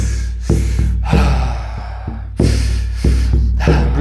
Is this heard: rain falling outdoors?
no